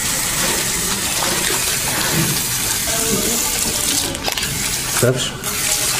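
Tap water runs steadily while long black hair is washed at a salon basin, a continuous broadband splash under brief talk.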